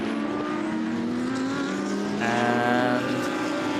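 Full In Racing Audi race car in an FIA CEZ endurance race at Most, its engine droning steadily with shifting harmonic pitch, swelling louder for a moment as it passes nearby, no voices.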